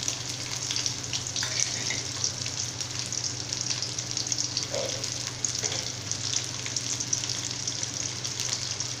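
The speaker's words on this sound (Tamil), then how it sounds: "இதல சின்ன வெங்காயம் ஆட் பண்ணிக்கிறேன் பொடியா நறுக்கி" Chopped small onions (shallots) fry in oil with a continuous crackling sizzle, close and steady, broken by a few faint stirring knocks.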